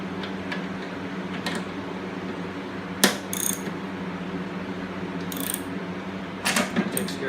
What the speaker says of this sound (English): Tighten up these 2 bolts.